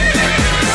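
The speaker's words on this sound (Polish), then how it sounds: "Stadni na koni, koń konia goni po zielonej łące." A brief horse whinny rises and falls over dense, loud music in a Silesian-language pop song about horses galloping across a green meadow.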